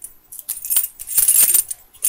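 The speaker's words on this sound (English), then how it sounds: "just a bit of rustling." Items from a shopping haul of chocolates, perfume, a hat, a camisole and Christmas baubles rustle and clink in short, close bursts of crinkling and tapping with brief pauses between them.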